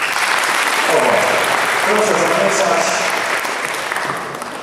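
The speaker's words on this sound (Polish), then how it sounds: "to jeszcze raz poproszę Państwa o brawa" Audience applause at a quiz tournament on knowledge of Olsztyn, a steady burst of clapping that fills the hall and tapers slightly toward the end, with a voice speaking briefly over it.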